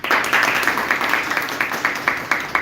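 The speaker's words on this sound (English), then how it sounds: "So, big round of applause again." Clapping from a small group after a classroom English debate, quick uneven claps close by, continuous and lively for a couple of seconds.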